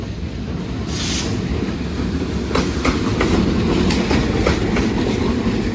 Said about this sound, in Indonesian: Ini kayaknya lokomotif dinas Malabar berarti kalau begitu ya teman-teman.